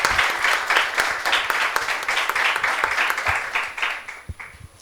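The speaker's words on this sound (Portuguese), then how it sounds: "eu queria pedir uma salva de palmas para o nosso querido ex-presidente" An audience at a summit panel on artificial intelligence applauds a former president, a thick, close burst of many hands clapping that holds steady for several seconds before tapering off near the end.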